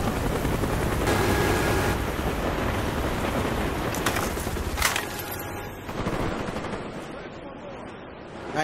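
A Cobra attack helicopter is called in during a Black Ops Domination match on the WMD map, its rotor drone loud and steady under rattling bursts of gunfire and explosions, with a voice speaking over the battle.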